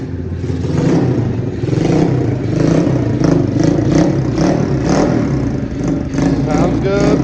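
Motorcycle with a cheap, modified less restrictive exhaust, revved repeatedly in a shop in sharp bursts that rise and fall with clattering, ending on a quick rising rev.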